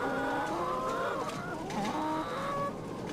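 Battery-caged hens clucking in a crowded shed, a dense overlapping chorus of soft clucks and drawn-out calls, steady and close with no talk.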